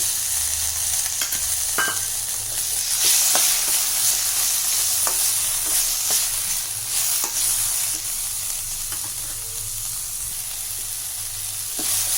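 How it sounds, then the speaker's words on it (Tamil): Onion and tomato sautéing in a pan, a continuous soft sizzle with scattered scraping stir clicks from a utensil throughout. "இப்போ தக்காளி வெங்காயம் இதெல்லாம் நல்லா வதங்கிடுச்சு"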